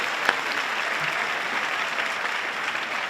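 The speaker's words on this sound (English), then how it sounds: "Let's give a round of applause for all the fathers in the audience." A commencement crowd at UC Santa Cruz's Stevenson College claps for the fathers present, a sustained, even wash of applause from many hands throughout.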